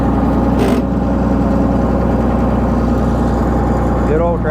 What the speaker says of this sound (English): Good old tractor.